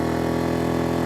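ERAYAK 2400W portable inverter generator running past its rated load, its engine droning steadily and straining to hold speed, close and loud with no voices.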